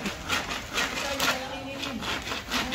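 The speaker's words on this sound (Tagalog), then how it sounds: "Pero ang cute ng lagari yan, liit-liit." A small hand saw cuts wood on a resort construction site in quick, regular back-and-forth strokes, close by and steady, a rasping rhythm with faint voices in the background.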